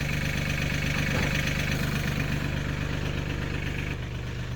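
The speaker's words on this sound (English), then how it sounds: "Tractors come in handy for a lot of things." A tractor engine idles steadily at close range, a constant low throbbing drone with a slight drop in level near the end and no talking.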